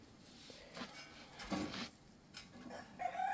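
A hen clucks in a few short bursts at close range in a quiet indoor or farmyard setting, with soft background noise between the calls.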